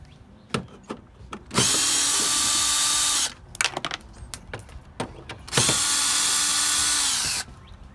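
Power drill backing out the tail light bolts on a Honda Pilot, two close whirring bursts of a few seconds each, with clicks and handling noises between them.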